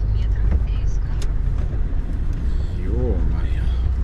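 A car passes by outdoors, its engine and tyre noise rising and fading over a few seconds while someone talks over it.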